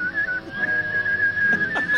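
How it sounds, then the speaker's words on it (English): A full-mouth whistle, not made with puckered lips, holds one steady high note with a slight vibrato, clear and close, with faint background murmurs beneath it. "It's like a full mouth whistle."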